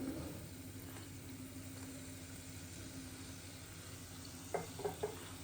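Garlic rice turned in a pan, a soft, low sizzle running steadily with a low hum beneath and three brief scraping knocks near the end.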